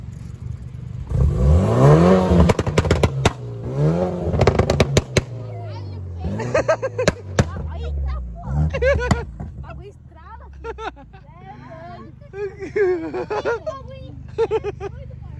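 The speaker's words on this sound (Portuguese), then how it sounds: "Vem aqui atrás pra você ouvir os pipocos, vem." A car's exhaust cracks with loud, sharp pops and backfires in rapid clusters amid engine revving, heard close from behind the car, with people talking between the bursts.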